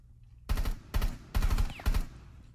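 Four short, sharp bursts of gunfire in Rainbow Six Siege, each a quick cluster of shots, evenly spaced and fairly close, with no talk.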